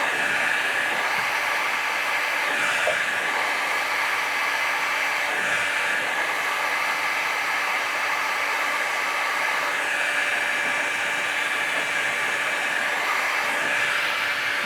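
A heat gun softens rock-hard filler on a boat hull, roaring as a constant loud hiss with no pauses and no speech.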